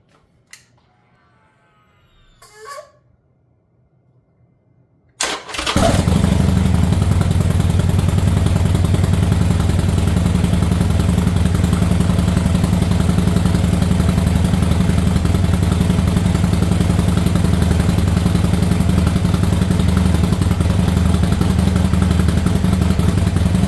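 A motorcycle fitted with a newly installed, spray-painted fuel tank fires up after a few quiet thumps and settles into a loud, steady idle that runs close and continuous with no talk.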